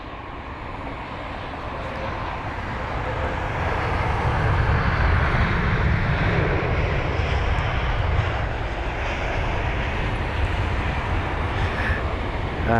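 Airbus A319 jet engines at London Heathrow, a loud, continuous roar that swells over the first few seconds and then holds steady and dense throughout.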